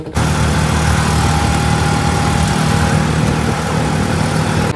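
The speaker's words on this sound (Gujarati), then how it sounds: "છે ફટફટિયું." A phatphatiya motorcycle rickshaw engine runs close by, a loud, steady, rough low chugging drone that holds through the whole stretch with no talk.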